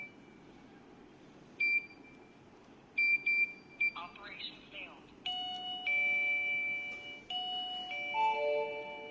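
Smart lock doorbell chime and incoming call alert: a few short electronic beeps, then a brief rustle, followed by a repeating multi-tone ringing chime, clear and indoors, with soft speech in the background.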